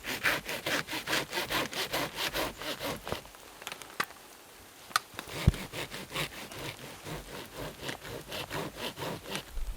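A hand saw makes a back cut through a tree trunk outdoors, a close, rhythmic push-pull rasp of steady strokes through wood, briefly pausing midway before the sawing resumes at the same brisk pace.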